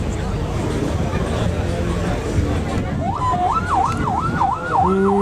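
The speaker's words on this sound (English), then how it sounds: "Police car's going off." A police car siren starts up partway through, a clear wailing tone sweeping up and down repeatedly over the murmur of a crowd at an outdoor American and classic car show, with people talking close by.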